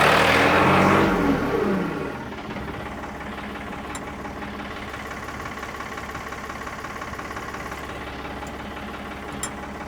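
An old backhoe engine starts with a loud burst, then settles into a rough, steady running chug.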